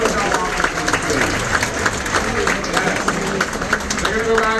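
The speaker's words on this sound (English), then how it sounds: "Let's give a warm round of applause for our senior hotel officers" Warm applause from a crowd for the senior hotel officers aboard a cruise ship, steady clapping and cheering that fills the clip, with voices mixed in.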